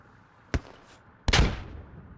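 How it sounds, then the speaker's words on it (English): Two sharp, close rocket bangs in the Squad video game, fired into a compound, a brief crack followed moments later by a louder blast with a rumbling, decaying tail, no voices. "Rockets now being fired into the compound from what I could hear"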